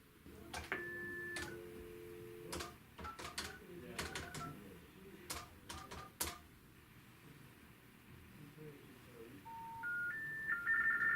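A telephone number is dialed on a keypad, a rapid irregular run of short DTMF beeps over faint background noise, followed by rising three-note intercept tones that signal the call cannot go through.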